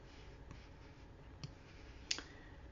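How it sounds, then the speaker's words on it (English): A single sharp computer mouse click on an email link, quiet and close, standing out near the end against faint room noise with a couple of softer ticks earlier. "I'm going to go ahead and click on it"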